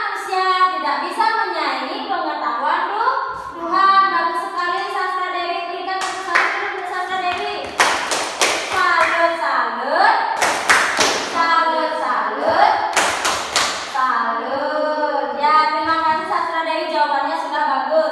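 A classroom of children claps for a student after an answer, bursts of hand clapping breaking in between stretches of a teacher's and children's voices.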